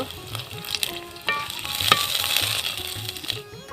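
Onions and green chilies frying in hot oil, a steady close sizzle with bright crackling and a few stirring scrapes and clinks of a utensil against the pan, no voices.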